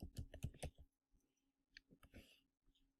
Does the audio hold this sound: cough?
no